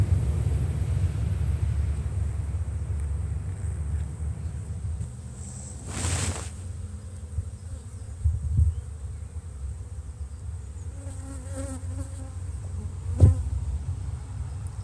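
Honeybees at an opened, overwintered brood-and-a-half hive make a steady low hum throughout, with a few nearby buzzing passes and brief louder wingbeats close to the microphone.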